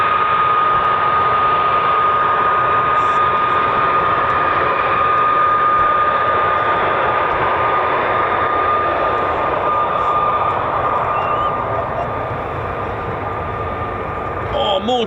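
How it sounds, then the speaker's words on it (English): An F-35A fighter jet flying at RAF Lakenheath, a loud, sustained roaring engine rush with a whining tone that holds steady for the whole stretch and eases slightly near the end. "This is the F-35A, flown by 2 fighter squadrons"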